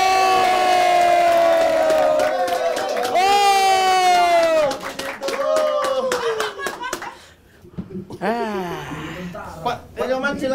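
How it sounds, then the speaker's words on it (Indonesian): A stand-up comedy competition audience claps and cheers, heard under the host's amplified voice as he talks over the noise. The applause fades near the end. "Tepuk tangan sekali lagi buat Pak Yoman."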